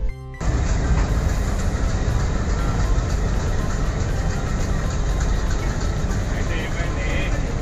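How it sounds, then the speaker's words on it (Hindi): A steady, loud rumble of the Secunderabad Rajdhani passenger train departing Secunderabad station, broad and continuous, starting abruptly after a brief pause. "सिकंदराबाद राजधानी का डिपार्चर सिकंदराबाद रेलवे स्टेशन से हो चुका है"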